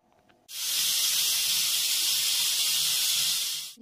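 A pressure cooker whistle lets out a loud, steady rush of hissing steam that starts abruptly and holds for about three seconds, with no voices.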